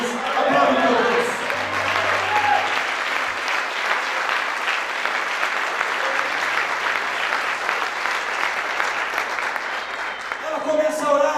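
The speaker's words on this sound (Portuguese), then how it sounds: "Aplaude meu Deus" A church congregation bursts into sustained applause, a dense, loud wash of many hands clapping continuously for over ten seconds, with a preacher's voice heard at the start and end.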